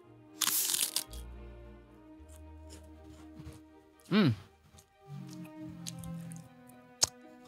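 Crunchy simping crackers flavoured with kencur, a Purwakarta snack, snap in a loud close bite, followed by fainter chewing crunches and a sharp crack near the end, with a voice murmuring between bites.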